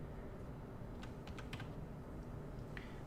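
Typing on a computer keyboard into a notepad: a few short, soft bursts of keystroke clicks close by, over a steady low background hum.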